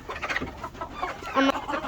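A chicken gives a short, loud cluck over a busy background of faint poultry murmuring.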